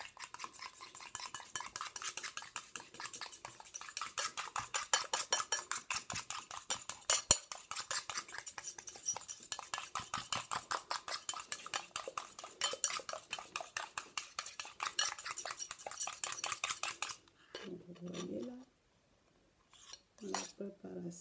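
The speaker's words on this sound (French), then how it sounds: "Et maintenant, on va venir mélanger toute notre préparation." A spoon stirs a homemade day and night serum preparation in a bowl, with rapid, steady rhythmic clinks for about seventeen seconds before stopping, followed by brief quiet talking.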